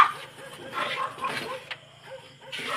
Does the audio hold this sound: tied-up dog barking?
yes